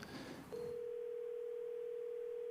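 A steady telephone line tone comes through during a call-in to a county commissioners meeting, holding loud and unbroken for about two seconds after a brief muffled burst of room noise.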